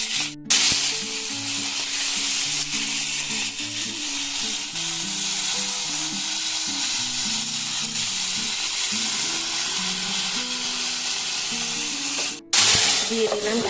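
Potato and pointed gourd, salted, fry in a pan as a continuous loud sizzle and hiss with occasional stirring, under background music, with sharp clatters at the start and near the end.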